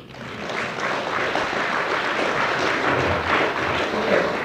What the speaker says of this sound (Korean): 진실하고 박실한 촌놈 허실제를 위해 박수 한번 칩시다